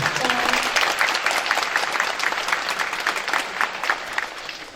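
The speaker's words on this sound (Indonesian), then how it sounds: "Mohon tepuk tangannya Bapak Ibu" A seated audience at an opening ceremony applauds in a steady, dense wash of clapping that holds loud throughout, easing off only slightly at the end.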